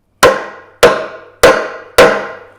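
A mallet driving a chisel into a tenon to split it while making a sack-back Windsor chair, four evenly spaced loud, sharp strikes with short ringing decays, close and alone, a fifth starting at the end.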